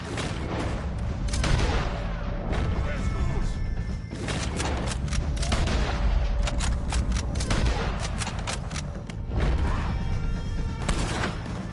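Gunfire in Red Dead Redemption 2 crackles in dense, overlapping volleys with loud booming reports, a continuous shootout with shouting voices mixed underneath.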